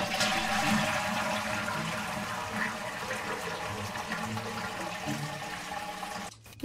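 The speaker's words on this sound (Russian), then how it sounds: "Ты два раза смой сейчас" A toilet flushes in a GTA 5 Online roleplay game, a steady loud rush of water that keeps going for several seconds before dropping off abruptly near the end.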